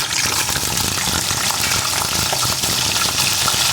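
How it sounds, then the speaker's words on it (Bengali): Potato pieces frying in hot oil tempered with whole spices, a steady dense sizzle that stays loud and even throughout, with no voices. "আলুটাকে লাল লাল করে ভেজে নেব"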